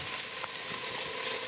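Freshly grated ginger, about a half-inch knob, hits a hot frying pan for a Thai red curry with shrimp, giving a brief, soft, steady sizzle close up with no talking.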